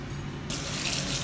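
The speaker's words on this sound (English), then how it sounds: "And then rinse it with water." Tap water gushes on suddenly over banana blossom being rinsed in a kitchen sink, a loud, close, steady hissing stream after a brief quiet moment.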